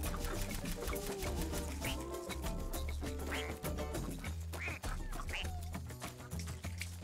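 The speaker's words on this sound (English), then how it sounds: "I even quack when I move." Repeated duck quacks sound as a character moves in the video game Prey, set against continuous loud game music and effects.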